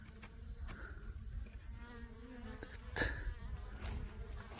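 A steady drone of native Korean honeybees hums close by at their hive, the layered buzzing continuing without a break, with a brief knock partway through.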